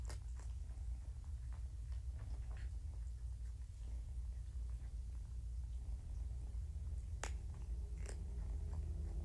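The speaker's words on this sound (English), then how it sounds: "I hope it's picking up their purrs." Kittens purr softly as a low, steady rumble close by, with occasional faint clicks and small rustles over the continuous hum.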